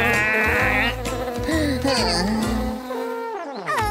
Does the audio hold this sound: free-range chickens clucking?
no